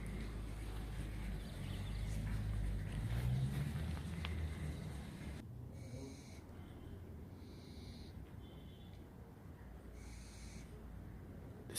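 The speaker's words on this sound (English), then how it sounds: "The sound of little owls." Little owls calling, a few short, high, repeated hoots in separate bursts that come after a stretch of low rumbling background noise, fairly faint and with no other sounds over them.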